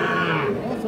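A young bull calf, about three months old, at Ambari cattle market gives one short, close moo amid market noise.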